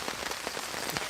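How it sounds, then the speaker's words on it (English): Steady rain falling straight down on a campsite in Scotland during a wet bushcraft outing, a dense close patter of drops hitting surfaces with no voices. "The rain is falling straight down or slightly to the sideline."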